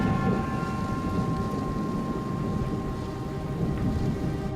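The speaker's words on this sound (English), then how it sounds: "thunder begins to reverberate around the airport" Thunder rumbles steadily through a thunderstorm over an airport at dusk, a continuous deep roar blended with heavy rain, loud and unbroken with no voices.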